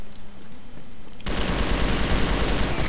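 Rapid automatic gunfire bursts in abruptly in the shooter game Crossfire after a quiet moment, a loud continuous stream of shots that carries on to the end.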